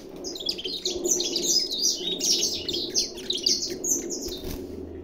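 Saffron finches (canário da terra) in a breeding aviary give a busy run of bright, overlapping chirps and trills, close and continuous, over a low steady background hum.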